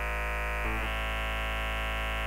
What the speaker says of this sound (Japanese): LFO のアマウント値を最大にし、サイン波で操作すると、ワブルベースの完成です。